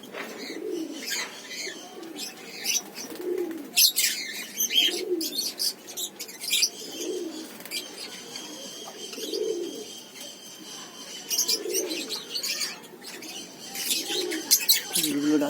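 Lovebirds in a breeding setup giving repeated soft, throaty calls at an even pace, mixed with sharper chirps and rustling, a voice speaking in between.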